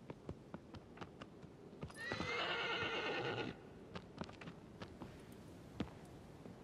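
Aggro, the horse in the video game Shadow of the Colossus, gives a loud, close whinny lasting about a second and a half, with soft hoofbeats clopping steadily before and after it.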